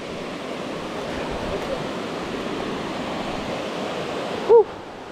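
A waterfall and creek at the base of Morans Falls in Lamington National Park: a constant, close rushing roar of falling water, with a short tonal blip near the end.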